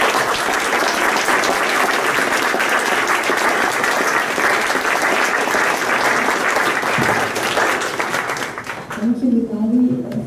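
An audience at a lecture on Russian cultural invasion of Ukraine applauds steadily to welcome a speaker, a dense, even burst of clapping that fades out as a voice begins to speak.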